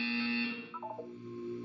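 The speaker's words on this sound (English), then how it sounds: "You will hear a buzzer." A buzzer in the Portal 2 video game sounds briefly and fairly faintly, a steady electronic tone that breaks into a short warbling flutter before fading.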